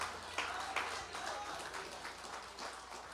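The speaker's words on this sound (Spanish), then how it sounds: "Dale un aplauso al Señor" A church congregation claps for the Lord in a steady, wash-like round of applause. Some sharper claps stand out at the start, and the sound carries a roomy, moderately distant feel with faint voices mixed in.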